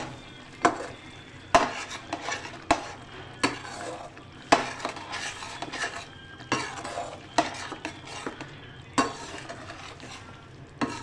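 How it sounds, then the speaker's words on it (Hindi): A spoon stirs cream into chicken gravy in a pan, scraping and clinking against the metal in a steady rhythm of about a dozen sharp knocks over a continuous low sizzle. "क्रीम डाल के खूब अच्छे से मिक्स करेंगे।"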